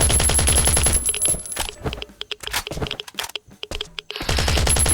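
Loud rapid automatic gunfire in Last Island of Survival hammers at a robot, long bursts broken by a choppy stretch of scattered shots before the firing resumes, no talk.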